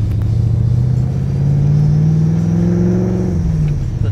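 A 1993 Ford Mustang Cobra engine pulls away with a steady low rumble that climbs in pitch as it accelerates, then eases off, loud and close.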